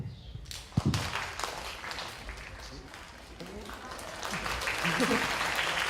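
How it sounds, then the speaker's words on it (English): A conference plenary audience responds with claps, starting with a sharp burst followed by scattered clapping and voices, then a rising swell of applause and crowd noise toward the end. "can you give me one clap?"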